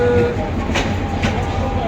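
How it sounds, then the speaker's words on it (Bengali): A large train passes close by with a loud, continuous rumble and rattle of rolling carriages, a heavy wash of noise throughout. "এই যে বিশাল বড় ট্রেন আসলো"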